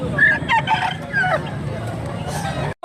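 A bullstag rooster of about two kilos crows loudly and close by in a Filipino farm setting, one strained cock-a-doodle-doo followed by a few clucks, with quiet voices and background murmur around it.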